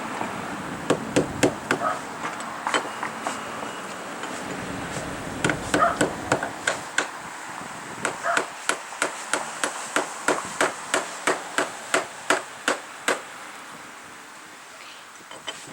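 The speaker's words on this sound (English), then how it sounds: "a little chisel and hammer works the best to get all of the caulk off" A small chisel struck with a hammer chips old caulk off window frames: a long series of sharp metallic taps, some in quick bursts and others evenly spaced, close by over a quiet room with brief rustling between strikes.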